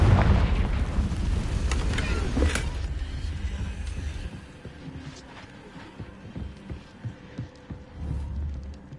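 A Confringo spell goes off in a Harry Potter game, a loud, booming blast with a rushing roar that fades into quieter rumbles and scattered thuds.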